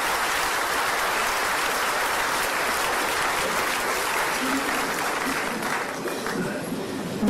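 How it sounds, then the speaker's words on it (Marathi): A crowd at a public event gives loud, sustained applause to welcome Chief Justice Uday Lalit in Solapur, a dense wash of clapping that tapers slightly toward the end. "एकदा जोरदार टाळ्या देऊन सगळे स्वागत करूया"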